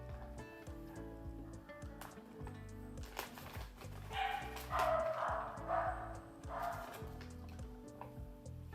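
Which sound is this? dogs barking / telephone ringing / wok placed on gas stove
dogs barking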